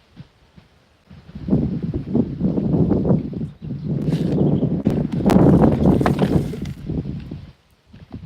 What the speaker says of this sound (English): Yeah, it's getting a little windy.